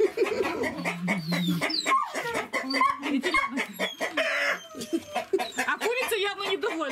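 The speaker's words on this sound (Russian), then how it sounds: "А курица явно недовольна. Петух." A rooster clucks and squawks in agitated bursts close by, with people talking over it and a dog barking now and then.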